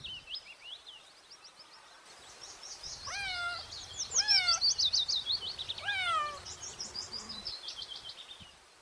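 A cat meows several times in a row, drawn-out rising and falling cries, with high bird-like chirps throughout.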